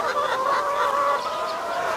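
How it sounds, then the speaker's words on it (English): Free-ranging chickens on a farm, grazing grass, keep up a continuous close chorus of soft clucks and murmuring calls with no talk. "we're having these chickens cruise around and they kind of mow the grass"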